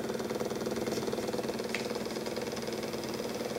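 A joule thief pulse motor spins at high speed, giving a steady, fast, rattling electrical-mechanical whir that stays close and even for the whole stretch, with no talk.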